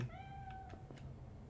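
A cat in the game Cyberpunk gives a single soft, drawn-out meow at a mystic shop, faint and close, fading into quiet ambience.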